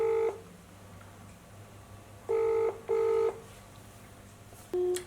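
A phone call rings out unanswered: a few short electronic ringback tones, two close together then one more after a pause, heard faintly over low background hum.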